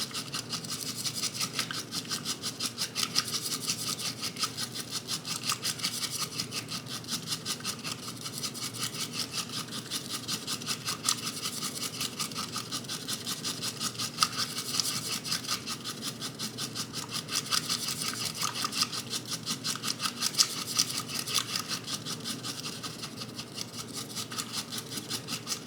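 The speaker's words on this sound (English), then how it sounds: "it is all whisked together" Matcha whisked briskly for a chocolate dirty matcha latte, a fast, even, bristly scraping that runs continuously at close range with no pauses or talk.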